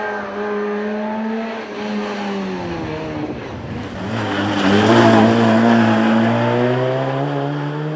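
A Puma kit car rallying at the Tour of Mull roars past, its engine note climbing through gear changes with rising harmonic sweeps, louder and closer toward the middle before holding steady, with no voices.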